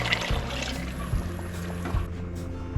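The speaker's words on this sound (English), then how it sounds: "I'm going to get about 2 cans full of water and add that as well" Water pours in a steady gurgling stream into a pan of tomato sauce, a close, fairly loud continuous fill with faint clinks of the can.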